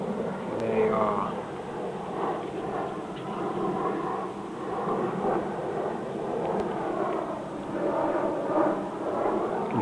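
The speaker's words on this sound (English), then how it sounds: "Hear the planes flying overhead" Airplanes pass overhead as a steady, broad, distant rumble that swells and fades slightly over several seconds, with a faint voice at times.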